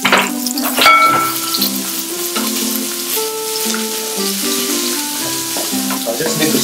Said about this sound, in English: So I just need to sweat these onions and garlic until the onions is translucent